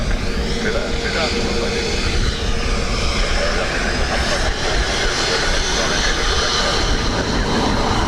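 Airliner arriving at Dublin Airport, a steady loud jet engine roar filling the whole stretch, with wind noise and a voice talking underneath.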